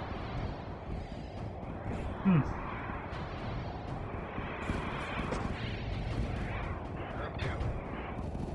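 Multi-gun Corvettes exchange fire with Interceptors in the Homeworld space strategy game, producing a steady rumbling barrage of overlapping gunfire with one louder burst, all beneath continuous talk.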